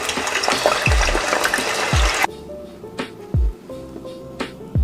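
Cut potatoes dropped into ice water: a bright splashy rush of water, then several distinct low plunks and splashes as pieces fall in, close and alone.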